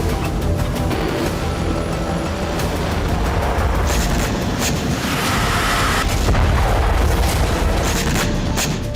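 Heavy explosive rumble from a Russian helicopter bombardment of a Ukrainian tank and military vehicles near Kupiansk, a loud, continuous roar of blasts and booming lasting several seconds, with no voices.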